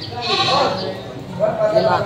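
Two close, loud goat bleats from a mother goat and kid at a market in Padre Garcia, Batangas, one wavering call followed by another after a short pause.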